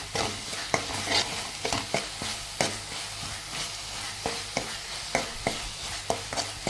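Chicken curry gravy fries in a little oil, a constant close sizzle broken by regular scraping strokes of a spatula stirring the pan, with no voices.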